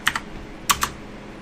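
A few quick keystrokes on a computer keyboard come in two short bursts of clicks, close and crisp, with quiet gaps and no talking.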